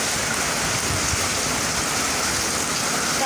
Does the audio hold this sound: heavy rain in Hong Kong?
yes